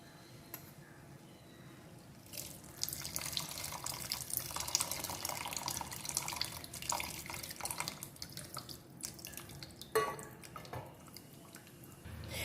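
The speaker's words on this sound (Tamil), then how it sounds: "இப்போ வந்து நம்ம புளி தண்ணி ஆட் பண்ணிக்கலாம்." Tamarind water pours into a moringa leaf curry in a kitchen, with splashing, trickling and dripping liquid sounds that come and go, fairly faint against a quiet background.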